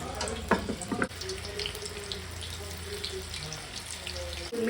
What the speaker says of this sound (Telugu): ఇప్పుడు మనము ఇట్లా ఒక్కొక్కటి తీసి ఆయిల్లో వేసి డీప్ ఫ్రై చేయాలి